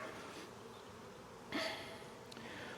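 Honey bees buzz steadily among eight hive frames in a Demaree-split box, a faint continuous drone with a brief louder swell partway through, no talking.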